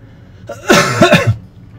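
A single sharp cough bursts out close to the microphone, with a short rough vocal edge, then quiet.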